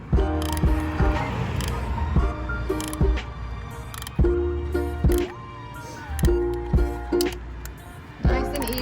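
A hand ratchet tightens 10 mm bolts on a 2015 Toyota Camry engine, giving repeated sharp clicking strokes at a steady rhythm, close and distinct.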